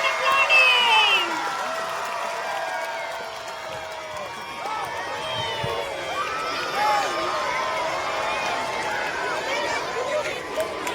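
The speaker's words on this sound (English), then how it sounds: "The clapping should not stop." Audience applauding at a Children's Day event, steady clapping and cheering from a crowd mixed with loud talk and bright babble throughout.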